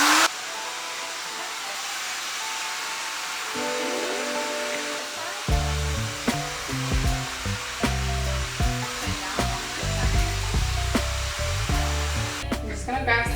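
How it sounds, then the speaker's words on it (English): A hair dryer fitted with a diffuser, drying curly hair in a salon, blows a loud, steady close-up whoosh. Music with a beat joins partway through and plays under the airflow. "We're about to diffuse right now and see the final result."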